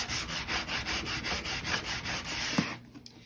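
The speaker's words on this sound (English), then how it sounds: "So I'm going to take my sander and distress this up a little bit" A power sander grinds steadily across thrifted furniture to distress its finish, a loud, close abrasive buzz with a faint pulsing rhythm as it sweeps back and forth, stopping near the end.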